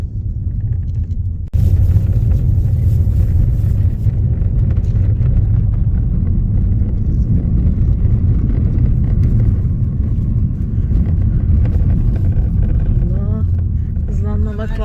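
A car drives a muddy mountain road near Beypazarı toward Tekke Dağı, its engine a steady low rumble that sits close and loud for the whole stretch, with tire and body noise and faint talk riding on top.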